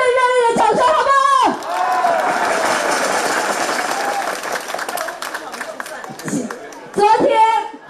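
A large crowd at a Taiwanese political campaign rally for Jaw Shaw-kong breaks into sustained applause and cheering, loud and even for several seconds, with an amplified voice speaking over the start and the end.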